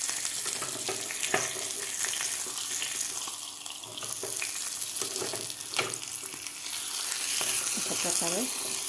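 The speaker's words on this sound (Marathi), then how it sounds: "व्यवस्थित आपलं अंडं फ्राय झालेलं आहे। तर आता आपण पलटी करून घेऊया।" An egg fries in a pan after being flipped, a continuous sizzle with scraping and clinks of a spatula, with faint voice-like sounds in the background.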